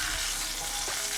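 Oven-baked chicken pieces sizzle and crackle in a hot pan as they are flipped, a steady close frying hiss filling the moment with no talking.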